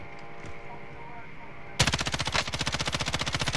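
Rapid automatic gunfire in Modern Warfare Warzone starts abruptly partway through and continues as a dense, loud, steady rattle of shots after a quieter stretch of game ambience.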